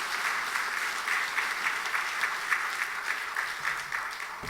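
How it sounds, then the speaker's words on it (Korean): A church congregation applauds during a Sunday evening service to welcome the pastor to the pulpit, steady dense clapping filling the room without a break. "우리 나오실 때 박수로 환영하십시다"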